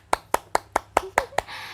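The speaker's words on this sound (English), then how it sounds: "Clap your hand." A child's hands clap seven times in an even, steady rhythm during an English lesson for a kid, each sharp slap close and distinct, with a faint voice sounding between the last claps.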